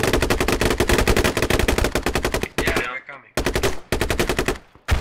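Rapid automatic gunfire in a squad-based military shooter video game, loud and close, coming in long sustained bursts with brief pauses between them.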